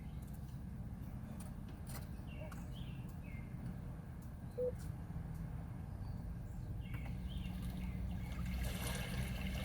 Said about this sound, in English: it was just rain or water flowing in the background